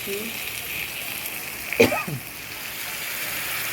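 A little water is poured onto ginger and garlic paste in a hot cooking pan, making one short splash and sizzle burst over a low, steady background hiss.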